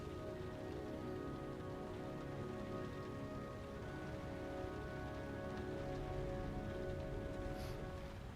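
Steady rain falling in the video game Heavy Rain, a dense, even hiss of drops on surfaces throughout, with no speech.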